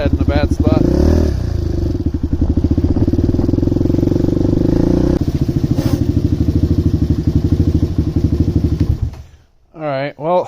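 A DVX400 quad engine runs steadily during tuning, a loud close rumbling idle with rapid firing pulses and some rattle, then cuts off near the end as a voice speaks briefly.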